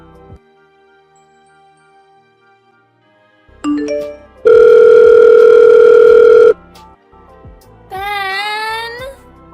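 A telephone rings with a loud sustained electronic tone lasting about two seconds, followed by a rising, warbling melodic chirp, with no talking.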